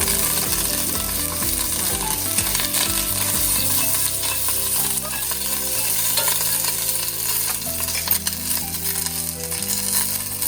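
Mustard seeds, cumin and chopped green chillies frying in hot oil, a loud, dense crackle and sizzle running steadily throughout, with faint spattering pops and no voices.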